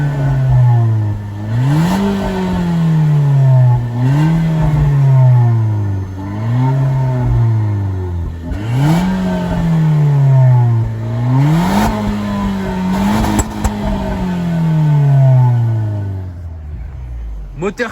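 Renault Mégane 4 GT engine revved repeatedly through a modified stainless-steel exhaust with the silencer removed, about six loud, close rising-and-falling sweeps in a steady rhythm that wind down at the end.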